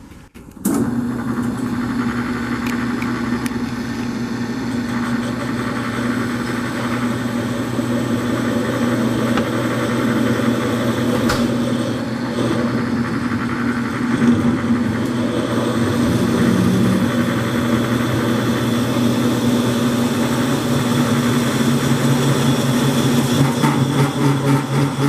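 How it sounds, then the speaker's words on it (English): A small lathe used for cutting centrifuge parts spins up after a brief moment and then runs in a steady, loud, even motor hum with a faint high whine, continuing without a break. "This here machine is my small lathe where I use to cut my centrifuge"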